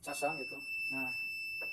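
High steady electronic buzzer tone of a homemade USB-powered anti-theft alarm for a lighter, ringing continuously while a person speaks over it.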